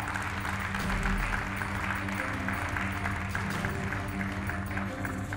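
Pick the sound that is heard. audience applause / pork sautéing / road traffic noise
audience applause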